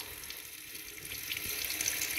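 Water runs from a kitchen tap into a bowl being filled for cats, a steady close splashing rush that grows slightly fuller as the bowl fills, with no voices.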